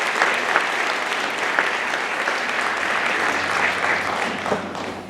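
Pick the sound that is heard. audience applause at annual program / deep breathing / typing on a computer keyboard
audience applause at annual program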